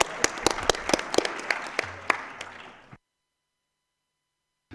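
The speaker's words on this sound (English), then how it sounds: "strong, big applause" Conference delegates break into strong applause after a resolution is adopted, a dense burst of clapping that fades and ends after about three seconds, followed by silence.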